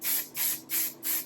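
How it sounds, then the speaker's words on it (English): Hair product sprayed from an aerosol can in four short, evenly spaced hissing bursts, close and clear with no talking. "I kind of hold my hair up like this and I spray in small little bursts"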